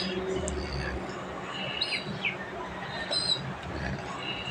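Young hand-fed racing pigeons give faint, scattered chirps and squeaky peeps, a few brief calls over a soft background rumble.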